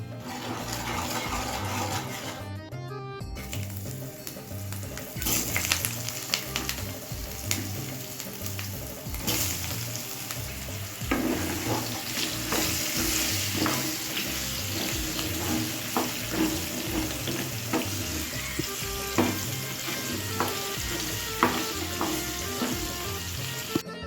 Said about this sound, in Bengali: কাঁকরোলগুলো ভাজা হচ্ছে